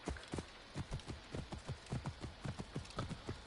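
The underworld horse in Assassin's Creed Origins trots along with rhythmic hoof clip-clops, a steady quick beat of paired thuds, fairly quiet and close, with no talking over it.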